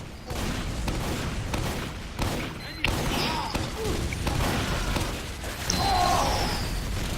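Rapid gunfire and thudding blasts from a sentry gun in Team Fortress 2, dense and continuous amid other combat noise on the Viaduct king of the hill map.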